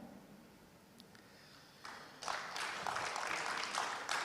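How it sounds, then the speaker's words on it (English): Conference audience breaks into applause at a business forum, quiet room tone first, then a dense wash of many hands clapping swells in after about two seconds and holds steady and fairly loud to the end. "Another round of applause for COP26 President"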